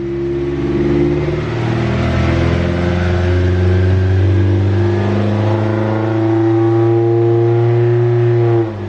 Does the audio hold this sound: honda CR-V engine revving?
yes